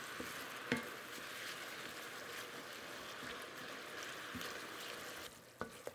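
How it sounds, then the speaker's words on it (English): Wine boils and reduces in a pan on a stove at medium-high heat, giving a steady, quiet, even bubbling hiss. A few faint clinks sound near the end. "I'll turn the temperature on the stove up. And I will boil off most of that wine."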